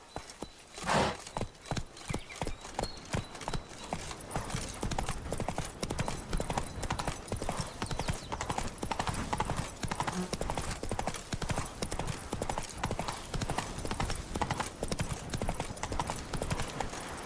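Roach, a horse in The Witcher 3: Wild Hunt, trots with steady rhythmic hoof clip-clops, continuous and fairly close, with a brief whinny near the start.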